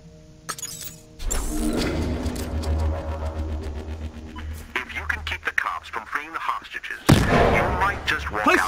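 Grenade launcher rounds fired in the Battlefield Hardline video game thump and burst repeatedly amid other gunfire and a loud mixed game soundscape, with a heavy rumble throughout and a sharp blast near the end.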